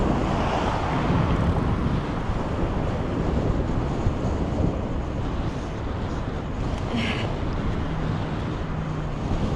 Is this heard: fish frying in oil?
no